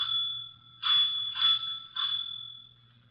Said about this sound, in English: you had better ring the doorbell